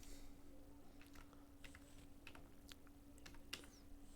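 Typing on a computer keyboard while entering a name in Photoshop: irregular, quick key clicks in short bursts, close and fairly quiet over a steady low hum, with no speech.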